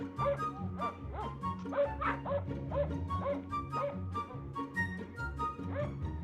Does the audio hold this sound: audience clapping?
no